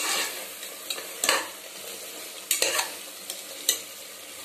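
Sautéed tomatoes get stirred in a pan over a soft frying hiss, with several distinct scraping strokes of the spoon spaced through the stretch, close up and without speech.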